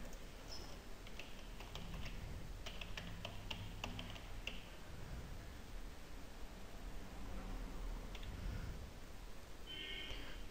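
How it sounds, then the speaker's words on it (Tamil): Typing on a computer keyboard while entering a website name, heard as scattered soft clicks in short bursts over a steady hiss of background noise, with no talking. "நம்ம வெப்சைட்டோட நேமை டைப் பண்ணுறோம்."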